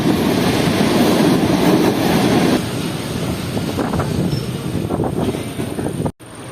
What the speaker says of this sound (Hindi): और यहाँ पर हमारी ट्रेन ओवरटेक कर रही है कोल ट्रेन को।